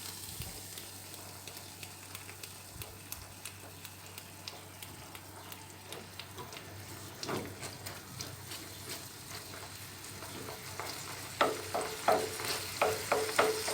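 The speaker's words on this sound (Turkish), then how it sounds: "Böyle bir karıştırıyorum. Sıvı yağımı ekliyorum." Meat for Mersin-style tantuni fries in oil in a pan, giving a continuous close sizzle with scraping stir strokes that grow louder and more rhythmic toward the end. No one speaks.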